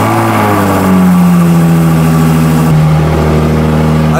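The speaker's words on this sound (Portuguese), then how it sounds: "vamos fazer o cold start então?" A new car's engine cold-starts and revs loudly up close, with a rising then steady roar that eases back toward a high idle near the end.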